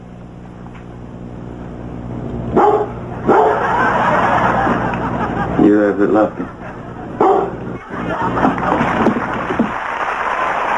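Small dog yips and barks in several sharp bursts, close and loud, over and between people talking on a late-night comedy set.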